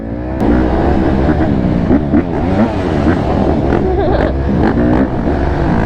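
A two-stroke dirt bike engine revs up and down in quick, rising and falling blips, loud and close, with some rattling clatter mixed in.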